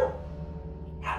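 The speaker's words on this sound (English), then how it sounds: "Dogs going off." A single short bark rings out in a room from one of a sister's dogs. It comes close and moderately loud over a low hum, followed by a second brief yelp.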